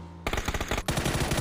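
Rapid automatic gunfire in PUBG on the Erangel map during a competitive esports match, loud bursts of close shots in dense strings, broken by a brief pause before another sustained volley.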